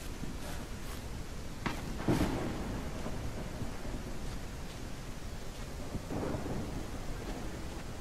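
Steady rain hisses in the zombie survival game No One Survived, with low rumbles of thunder rolling in around the second and sixth seconds, no voices over it.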